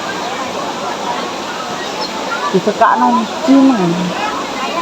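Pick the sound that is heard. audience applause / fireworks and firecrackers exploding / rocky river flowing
rocky river flowing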